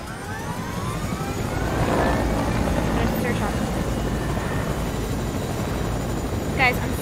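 A video game helicopter drones in a loud, steady engine and rotor wash that holds through the whole stretch, with a brief chirp near the end.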